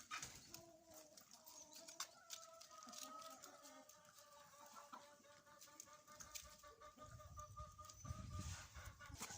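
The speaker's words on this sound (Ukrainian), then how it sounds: "вийшов ось півник. Ось він, який тут гармидер робить у курей" A rooster stirs up a commotion among hens in a farmyard on a warm day, with repeated clucks and squawks from several birds at moderate distance over quiet outdoor background.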